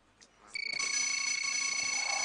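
An electronic answer bell at a school science quiz contest sounds after a brief click, a sustained bright ringing tone that holds steady and fairly loud.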